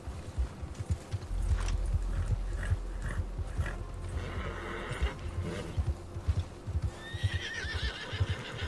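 A horse in the Red Dead Redemption 2 video game whinnies and snorts while its hooves clip-clop on the ground, with a longer neigh near the end.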